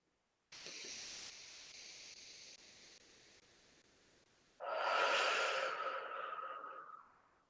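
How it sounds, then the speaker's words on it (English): During a guided energy-clearing meditation, a slow, deep breath is drawn in with a soft, airy hush, then released as a louder, forceful exhale that gradually fades, close and alone. "So, take a deep breath."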